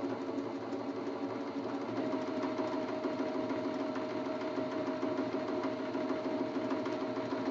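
A sewing machine runs a steady quarter-inch seam down the middle of a churn dash quilt block, its even mechanical hum unbroken and fairly close for the whole stretch, with no voices.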